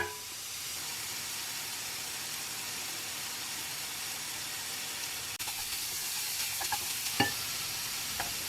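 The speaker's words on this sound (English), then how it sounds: "we're gonna add in our seasoned jackfruit into the pan" Seasoned jackfruit sautéing in a hot pan, a steady close hiss and sizzle with a few sharper crackles and stirring scrapes toward the end, no talking.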